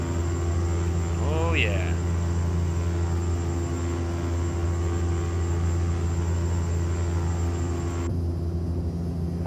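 Loud, steady engine drone from a 690B aircraft in the X-Plane 11 flight simulator on approach to runway 16 left at Kamloops, a dense continuous roar throughout, with a brief voice over it early on.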